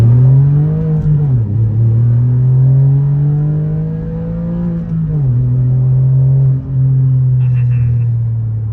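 A sports car engine drones loud and close, its revs climbing, dipping and climbing again as it accelerates with a steady powerful growl.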